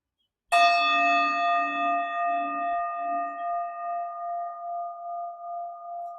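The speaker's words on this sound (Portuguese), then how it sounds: "Deixe que o som do sino" A single meditation bell is struck once, ringing out clear and bright, then its pure tone slowly fades with a gentle wavering shimmer.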